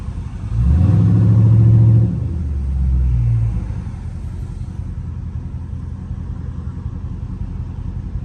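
A loud catless Dodge Scat Pack makes a fly-by, a deep roaring exhaust swelling as it passes and trailing off into a low fading rumble.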